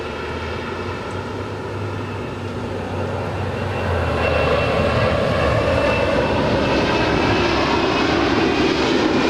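MD-11 freighter rolling for takeoff at LAX, a steady low engine rumble that grows louder about four seconds in and settles into a broad continuous roar without voices.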